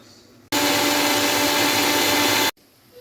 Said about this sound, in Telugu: పొట్టు తీయని ఎల్లిపాయల్ని మిక్సీ పట్టుకుందామండి.